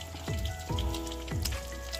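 Rain falls outside on a dark evening, a faint, soft patter of scattered drops behind quiet kitchen sounds.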